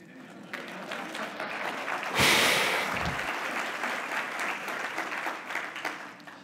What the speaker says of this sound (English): This is where everybody applauds.